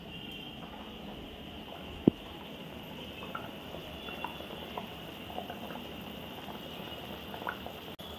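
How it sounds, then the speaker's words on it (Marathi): Katachi aamti, a spicy lentil curry, simmers in a pot with a soft, steady bubbling and occasional small pops and clicks, faint and close, with no talking. "म्हणून ही आपण आता 5 मिनिटं चांगली उकळू देऊया."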